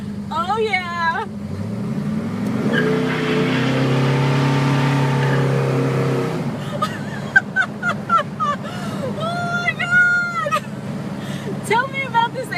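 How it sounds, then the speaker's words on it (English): Ford 351 high-performance Windsor V8, bored out to 360 and making about 435 horsepower, in a Starsky & Hutch movie car: the engine rises into a sustained rev, with excited voices around it. "It's a 351 high-performance Windsor. It's been bored out to 360 and produces about 435 horsepower."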